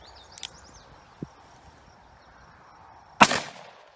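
A .357 Magnum 142-grain semi-wadcutter round fired at a Czechoslovakian Vz.52 steel helmet: one loud, sharp outdoor report with a short ringing tail stands out late, after quiet windy ambience and a few small clicks.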